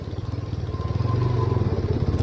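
A motorcycle engine putters close by with a steady pulsing throb that grows slightly louder as it revs.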